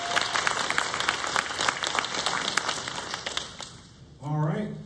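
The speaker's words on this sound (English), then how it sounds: "Give a round of applause for Serena." Audience applause at a Rotary-linked internships and apprenticeships event, a steady crowd clapping for about four seconds before it fades and a voice begins speaking near the end.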